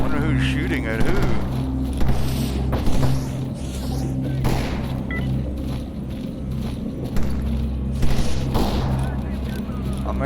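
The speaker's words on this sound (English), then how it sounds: "Somebody's shooting over here, not sure who they are." Gunfire in DayZ, several scattered shots and booms cracking out at irregular intervals over a steady low engine-like hum, with a voice talking throughout.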